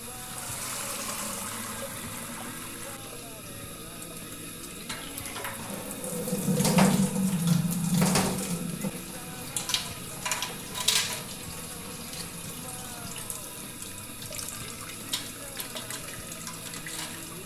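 Amber ale wort drains from a lifted mash basket, a steady trickle and splash of liquid close by, swelling into a louder gush midway before settling back to a running pour; brief speech may be present.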